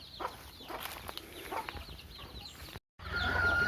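Native country hens and their chicks cluck and peep while foraging in the open, scattered soft calls close by, followed by a brief gap and a steadier background hum.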